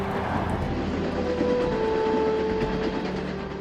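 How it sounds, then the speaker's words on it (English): A steady, low rumble of a moving train in Uzbekistan approaching Bukhara fills the clip, with a faint hum and muffled rattle, continuous and even, no voices. "The train is now entering the next famous city"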